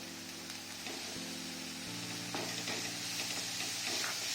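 Tomatoes go into hot oil with turmeric for a dhaba-style paneer masala curry, a steady sizzle and hiss swelling as they fry, with soft scraping of stirring and a low hum underneath.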